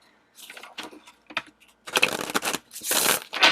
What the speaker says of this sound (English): then we're going to shuffle these guys and get 2 cards